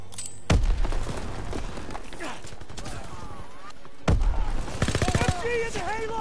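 Bursts of automatic machine gun fire in a WWII shooter game near a farmhouse with an MG in the hayloft, loud sharp volleys at the start and again midway, mixed with game sounds and shouted voices.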